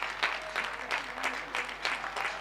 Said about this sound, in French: Ça applaudit un petit peu moins que d'habitude